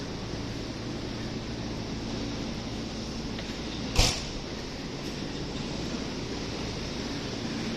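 JR 221 series electric train at Kyoto Station, a steady low rumble and hiss of the idling train with a single short sharp click near the middle; no talk.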